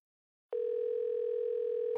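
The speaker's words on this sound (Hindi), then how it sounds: "तेरी सास फोन कर रही है, उठाइए" A telephone sounds with a steady electronic tone that starts abruptly after a moment of silence and holds unbroken, clear and alone.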